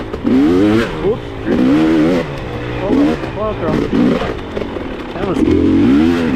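A dirt bike engine revs and bogs while climbing a hill on an enduro trail, its throttle rising and falling in choppy bursts, close and loud beneath a rider's running commentary.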